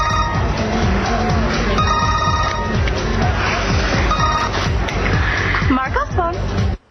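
A mobile phone rings in bursts of repeated electronic tones beneath a busy scene with overlapping voices and background babble, the ringing returning several times before cutting off abruptly.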